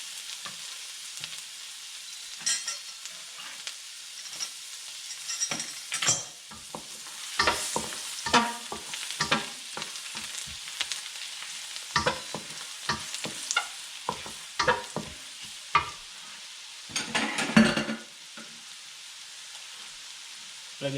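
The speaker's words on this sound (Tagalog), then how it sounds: "lagyan natin siya ng konting mantika. Lagyan natin yung ating bawang." Chopped garlic fries in a little oil in a pan for Kapampangan-style chopsuey, with a continuous soft sizzle broken by repeated scraping and clattering strokes of a stirring utensil.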